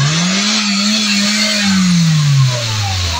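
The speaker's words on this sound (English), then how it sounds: "Rev it up." A Hyundai Accent with a manual transmission, fresh from an ECU repair, revs steadily near and loud. The engine tone climbs slightly, holds, then eases back down over about three seconds.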